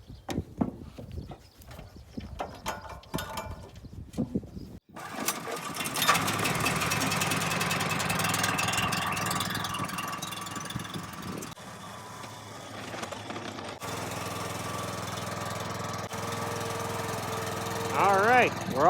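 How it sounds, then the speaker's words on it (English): A BCS walk-behind tractor running a flail mower chops pruned branches into chips, with a steady loud engine drone and rough chopping that starts after a few seconds of scattered clatter and continues throughout. "using a BCS and a flail mower to chop them up and leave them the equivalent of wood chips"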